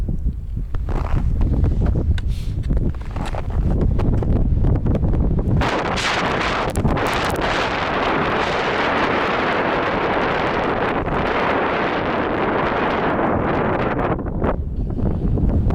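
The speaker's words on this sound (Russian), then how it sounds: "Показать вам, как тут резко налетает ветер?" Powerful mountain wind at about 55 km/h roars and buffets the microphone in sustained gusts on a high-altitude trek, loud and close, with sharp thumping bursts and a constant broadband rush throughout.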